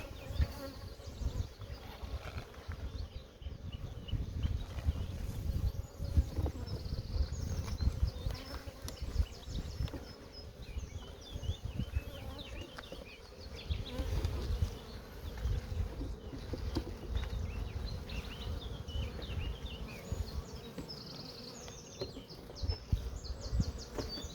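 A large colony of honey bees swarms around an open hive, making a dense, constant buzzing hum close by for the whole stretch, with faint bird calls in the background.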